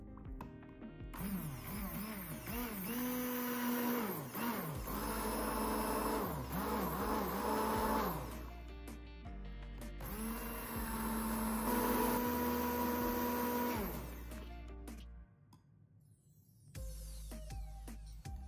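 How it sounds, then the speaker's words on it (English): A stick blender whirs as it combines heated water and oil phases of a homemade spray-on body lotion, motor pitch rising and falling in bursts with brief pauses, close and fairly loud, no talking. "Now combine the two heated phases with a stick blender."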